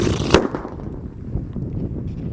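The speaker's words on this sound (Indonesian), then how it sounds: "Di sini ada mercon radiator. Kita masukkan di lubang tanah dan kita lihat reaksinya." A radiator firecracker set off inside a hole in the ground gives one sharp, loud bang early on, followed by a muffled rumbling decay and scattered debris sounds.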